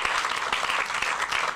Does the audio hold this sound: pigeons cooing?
no